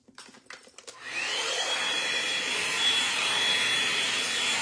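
After a few handling clicks, a hair dryer switches on at home and blows with a steady, close, airy whoosh that runs on without interruption.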